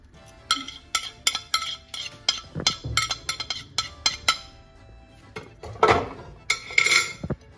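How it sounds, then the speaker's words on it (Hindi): A spoon or whisk clinking against a bowl while gram flour batter is mixed with onion and chillies, giving irregular bursts of sharp metallic taps and scraping strokes, close and fairly loud. "अब इन सब चीज़ों को अच्छे से मिक्स करूंगी।"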